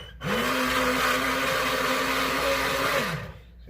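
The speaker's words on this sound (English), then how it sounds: "So with our stick blender," A stick blender whirs steadily for about three seconds as it blends lemon, salt and coconut oil into mayonnaise, a loud continuous motor hum starting and stopping cleanly, heard alone without talk.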